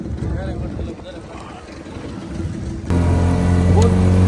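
Boat engine on a dam reservoir kicks in and settles into a loud, steady low drone, with background chatter and other voices speaking over the motor.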